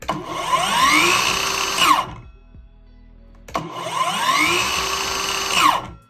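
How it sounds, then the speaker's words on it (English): An Evolution R185CCSX track saw spins up twice with a soft start, runs loud and steady, then its blade brake stops it fast, with a short quiet gap between the two runs. "It's got a buttery soft start with a brake that stops the blade really quickly."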